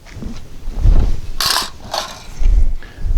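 DSI Variant 1 rifle with an aluminum Sure Feed magazine: a loud sharp metallic clack as the bolt locks open, followed by further mechanical clicks and knocks as the magazine drops free, close and without talk.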